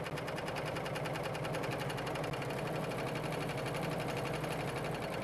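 A Husqvarna Viking Huskylock 936 serger stitching fabric runs steadily and loud throughout, a fast even mechanical whir and needle chatter with no pauses and no voices.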